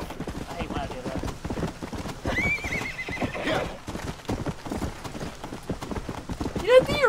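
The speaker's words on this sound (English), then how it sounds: "Horse." Horse hooves clip-clop in a steady rhythm with a loud whinny partway through and another near the end, set in Red Dead Redemption: Undead Nightmare with rain in the background and a voice speaking over it.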